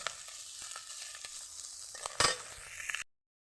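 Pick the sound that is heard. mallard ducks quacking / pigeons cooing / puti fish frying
puti fish frying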